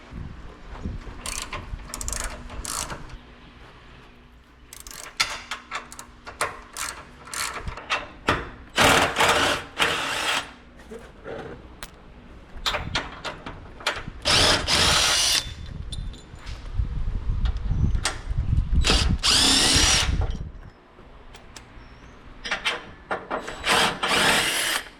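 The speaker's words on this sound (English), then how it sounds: "I'm going to remove these bolts and these points" A ratchet and a power drill remove bolts from the skid plate of a 2024 Toyota Tacoma, giving rapid ratchet clicking, whirring drill bursts and metallic clanks in close, loud, uneven stretches.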